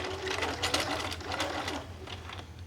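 Sewing machine back stitching on a tulle wedding gown, a close, steady rapid needle patter with slight rhythmic pulsing across a short run, no talking.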